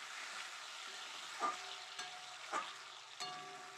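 Chopped tomato fries quietly in a pan beneath a soft sizzle, while a spatula scrapes and taps against the pan about four times.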